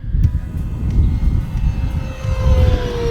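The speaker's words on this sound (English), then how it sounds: "That is a half throttle pass." An RC Arrows F-86 Sabre jet makes a half-throttle fly-by, its loud, steady ducted-fan roar filling the air as a descending whine trails off while it passes.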